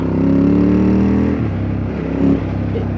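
Loud, close revving from a 2003 Ducati Monster 916 S4 engine: a strong sustained roar that drops abruptly partway through, then swells briefly again before settling, alone without speech.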